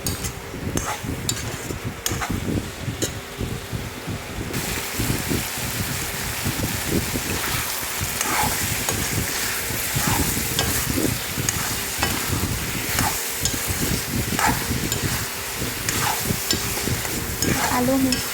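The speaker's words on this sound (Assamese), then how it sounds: "আকৌ লৰাই দিছোঁ অলপ" Meat and potatoes stirred in a pan, a dense continuous sizzle with repeated scraping and clattering of the spatula against the pan throughout, close and fairly loud.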